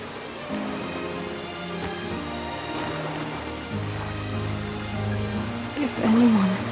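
Steady rain falls in the video game Octopath Traveler II, a continuous even patter of drops with low-level background music underneath.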